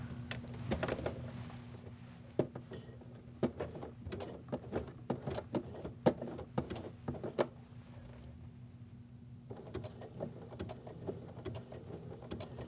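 A sewing machine runs a narrow zigzag stitch across a pants zipper area, its rapid mechanical chatter steady for several seconds with a brief pause near the end before resuming, close and moderately loud with no voices.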